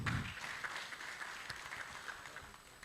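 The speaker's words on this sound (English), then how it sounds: "Another big round of applause." Audience applause at a health forum, a steady wash of clapping from a crowd that holds for about three seconds, moderately loud and fading slightly toward the end.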